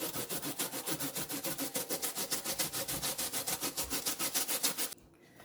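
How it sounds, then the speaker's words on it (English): Sweet potato and yam are grated by hand on a grater in a fast, even rhythm of rasping strokes, roughly six per second, close and clear, before the scraping stops abruptly near the end. "just grate my potato and my yam"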